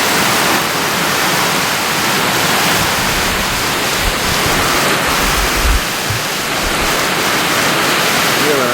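Heavy storm rain pours steadily as a dense, loud broadband wash across the whole stretch, with water flowing over a yard near a house where ducks shelter, a low rumble underneath and brief hail-storm bursts.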